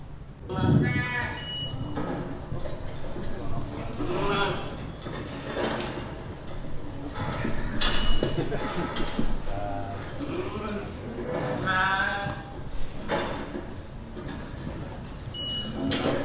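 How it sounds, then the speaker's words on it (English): Lambs pass through an auto drafter on a sheep farm: repeated clanks and sliding gate thuds mix with bleating lambs, steady and fairly close throughout, with some people talking in the background. "the lamb is going through the auto drafter"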